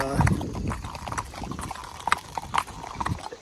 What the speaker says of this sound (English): We are approaching the end of our horse ride excursion.